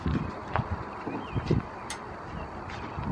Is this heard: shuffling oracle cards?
no